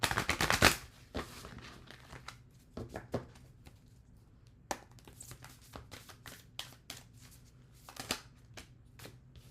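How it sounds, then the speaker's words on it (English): Cards are riffled and shuffled in a series of crisp, close bursts, with quick flutters and soft taps between them. "Shuffle these one more time because I'm feeling it here."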